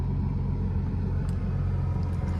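A Porsche 996 911 Turbo X50 Tiptronic coupe with about 62,000 miles runs at a steady, close idle, its deep engine rumble even and unbroken throughout, with no voices.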